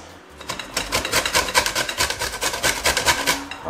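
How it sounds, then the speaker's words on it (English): Half a lemon is grated for zest in a kitchen, a fast rhythmic series of rasping scrapes, evenly repeated strokes, close and fairly loud with no voices. "you want to grate half of the lemon, right?"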